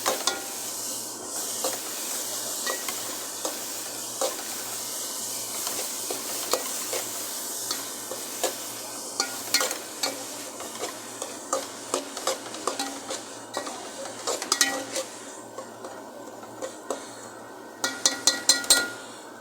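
A spoon stirs beetroot curry frying in a pan with coriander, scraping and clinking against the metal in irregular bursts over a continuous soft sizzle, growing busier toward the end.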